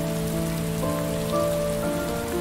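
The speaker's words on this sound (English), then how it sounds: "It's raining." Steady rain falls in the video game Heavy Rain, a dense, even hiss of drops striking a surface that stays loud and continuous throughout, with a faint musical drone beneath and no speech.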